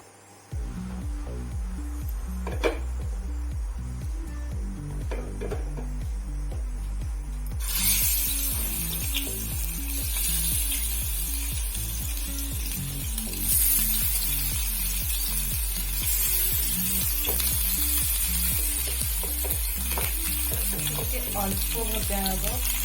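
Mustard oil sizzles and crackles in a hot pan while fish fries, with a steady low rumble under it and a louder, brighter hiss swelling partway through, continuing unbroken and close by.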